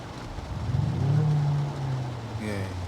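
Synthetic engine sound piped through the cabin of a Renault Samsung SM6 TCe 300 in sport mode, a steady droning hum that swells briefly as the car pulls, heard from inside over low road noise.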